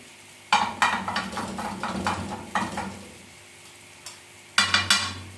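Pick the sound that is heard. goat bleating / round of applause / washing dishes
washing dishes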